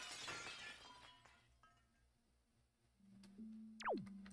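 Glass sky shattering in The Legend of Zelda: Wind Waker HD, a sudden bright crash at the end following a quiet stretch with a rising whoosh and a low held tone.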